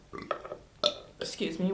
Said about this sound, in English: Hold on, I felt like I needed to burp again.